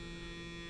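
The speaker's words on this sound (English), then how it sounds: "when I press my switch down, my motor goes" A small electric motor hums steadily in a folded-paper origami dreidel circuit, a continuous low drone that runs close and alone for the whole moment.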